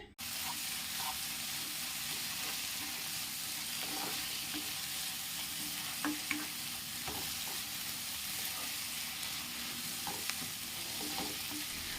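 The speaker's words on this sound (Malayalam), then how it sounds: "എങ്കിലും നമുക്ക് നല്ലതുപോലെ ഒന്നുകൂടെ വഴറ്റിയെടുക്കാം" Chicken curry masala sautéing in a pan, a steady close sizzle and fry hiss running the full length with occasional scrapes and taps of a spoon stirring through it.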